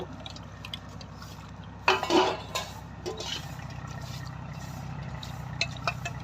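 Dishes and utensils clatter in a short burst while being washed, then fall back to faint clinks over a low steady hum.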